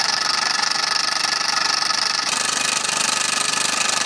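A Mamod Minor 2 toy steam engine with a brass flywheel runs steadily up close, giving a fast, even chuffing and mechanical hiss that continues without pause.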